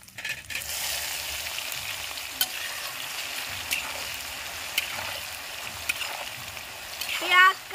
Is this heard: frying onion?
yes